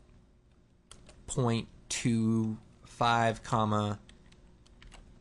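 Soft, quick computer keyboard typing clicks scattered under and between a person's steady talking, close and light rather than loud.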